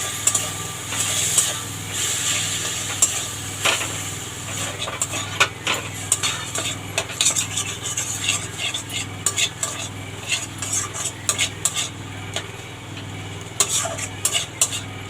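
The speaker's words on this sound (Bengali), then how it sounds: "এবার দেব একটু গরম জল দিয়ে মশলাটা ভালো করে কষে নেব" Spatula scraping and clinking against a pan while chana masala spices cook down with a splash of hot water, with a faint sizzle underneath; steady irregular stirring strokes close up, no talking.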